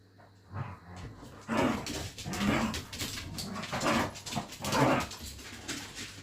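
Dogs whimper and vocalize in a run of restless, uneven bursts nearby, fairly loud throughout with no talking.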